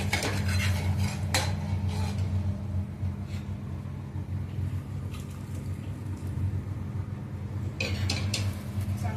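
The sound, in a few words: stirring curry in a pot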